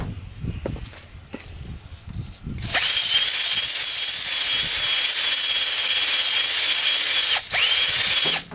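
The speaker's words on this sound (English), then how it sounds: "I'm just cleaning the rust off." Power tool whining steadily and loudly as rust is cleaned off a cylinder of a Chevy 400 four-bolt engine, starting abruptly after a few seconds of quieter handling noise and running nearly continuously with one brief dip.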